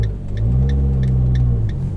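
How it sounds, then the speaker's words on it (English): A 2013 Fiat 500 Abarth engine revs loudly up close, a deep throaty roar rising and holding, with rhythmic ticking clicks above it. "I don't think the camera's gonna do this car justice when I say it's loud."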